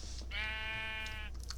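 A single drawn-out sheep bleat from a video game, steady and clear over a low background hum.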